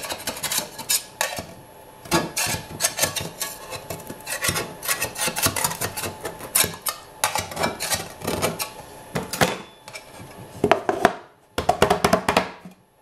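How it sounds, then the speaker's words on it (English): A butter knife scraping and cutting around the edges of a Halloween treat in a pan: repeated rasping metal strokes against the pan sides in irregular bursts, close and fairly loud, with short pauses between them. "I'm just going to be using a butter knife to kind of cut up the edges, make it so it comes out a lot easier."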